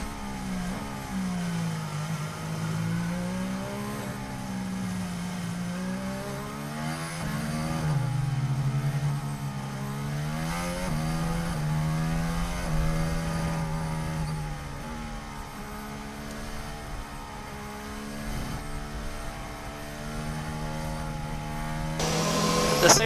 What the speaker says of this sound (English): you can tell by when you hear the engine note that Mercedes is having to hold back so much.